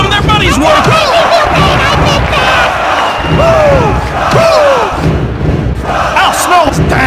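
Wrestling arena crowd in the WWF Attitude video game on Dreamcast roars loudly and continuously, a dense synthetic cheer with rising and falling shouts throughout, mixed with occasional thuds.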